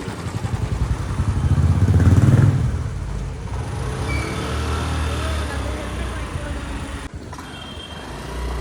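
A motorbike starts up and pulls away on a road outside Bannerghatta Zoo in Bengaluru, a loud engine swell around the second second easing into steady running with traffic noise and people talking nearby.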